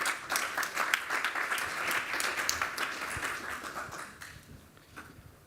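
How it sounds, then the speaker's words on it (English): An audience at a conference applauds the speakers, a dense, steady patter of many hands clapping that thins and fades out toward the end, with no talking over it. "your best and friendly applause for their subject and the presentation"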